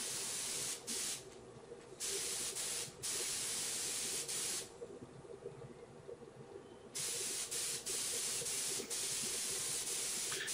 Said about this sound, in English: In this part you'll see how I spray finish the shojis.